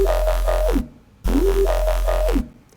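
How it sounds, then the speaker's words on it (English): A synth bass patch built from a saw wave, sub oscillator, noise and a resonant filter plays two loud, sustained notes, each with a rising, sweeping filter resonance and a deep sub underneath, separated by a brief gap. "So it's literally a saw wave, a sub, some noise, and this filter making this resonance."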